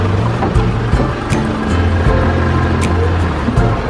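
Ride aboard a Filipino jeepney, a steady low engine rumble and road noise filling the ride with occasional clunks and rattles, close and continuous, no talking.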